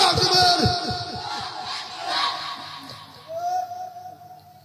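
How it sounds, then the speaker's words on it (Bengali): A crowd at an evening religious gathering in Gazipur roars the Allahu Akbar slogan in unison, a loud massed shout that swells at the start and rises again near the end. "আমরা আল্লাহু আকবার স্লোগান দেই।"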